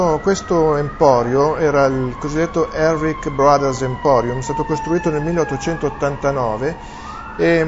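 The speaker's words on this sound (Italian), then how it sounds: "Tanto sotto stanno passando come al solito le ambulanze, i vigili del fuoco." Emergency sirens from ambulances and fire engines wail along a New York street, their rising and falling tones running steadily beneath someone speaking Italian close up.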